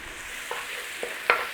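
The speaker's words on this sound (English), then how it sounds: "Give it a little stir." Onions with a pinch of salt and dried thyme sizzle gently in a soup pot for potato and bacon soup, with three short spoon scrapes and taps against the pot, close and alone.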